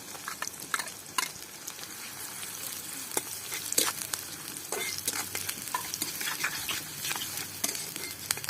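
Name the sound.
chopped onions and green chillies frying in oil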